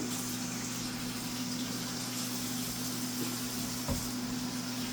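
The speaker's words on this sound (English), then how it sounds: "Just going to give my hands a quick wipe or wash." Running tap water pours steadily at close range as hands are rinsed in a home kitchen, a continuous gush with a brief splash near the end and no talking.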